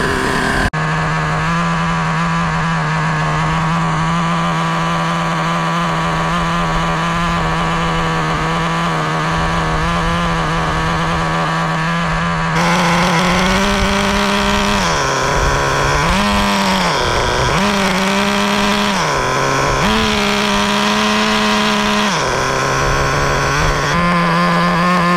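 A Traxxas Nitro Slash 3.3 nitro RC car engine buzzes steadily and loudly during break-in, its pitch dipping and surging a few times near the end as the throttle is blipped.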